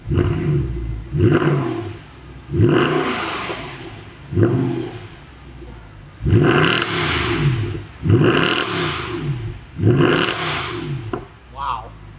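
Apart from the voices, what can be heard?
Fi-Exhaust on 2014 Mercedes C63 revving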